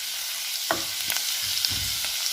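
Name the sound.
garlic and ginger frying in hot oil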